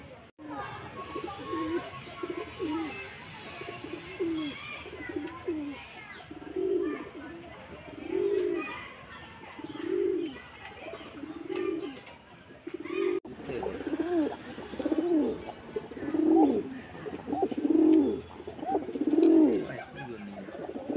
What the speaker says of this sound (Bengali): প্রতিটা পায়রা খুব ভালো পায়রা